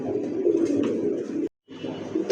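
Domestic pigeons coo in a low, steady murmur close by, with a brief pause before the soft cooing resumes.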